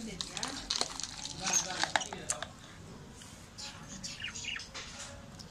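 Crushed thattu vadai being mixed with the back of a ladle produces light scraping and clinking of metal against a dish, soft and intermittent, under steady talking with faint chirps in the background.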